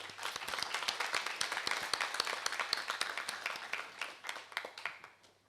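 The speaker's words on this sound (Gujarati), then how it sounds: "નેહા માટે એક તાળી." An audience claps for Neha at a live stage program, a dense burst of many hands applauding together, loud and sustained before gradually thinning out toward the end, with no voices over it.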